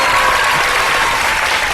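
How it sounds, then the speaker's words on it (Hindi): A studio audience at a Ramadan iftar television show breaks into full, dense applause, loud and steady throughout with no talk over it. "जरा भरपूर तालियां बजा दें एक दफा"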